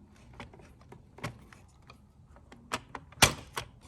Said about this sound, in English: I'm just going to click it back in place now